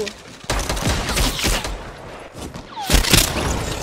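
Dense bursts of gunfire in Fortnite: Battle Royale, rapid overlapping shots and booms loud and close, with a brief lull before another heavy volley.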